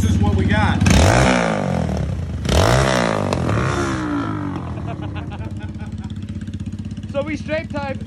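Motorcycle running with its mufflers removed, loud straight-pipe revs surging twice near the start and then settling into a rough, uneven idle, with voices talking over it.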